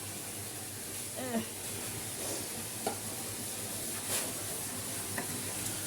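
Sliced onion hisses and sizzles in hot oil for a boal fish do-pyaza, a steady frying crackle with a few stirring clatters, under a person talking.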